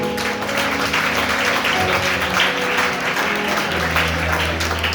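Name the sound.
congregation applauding for the Lord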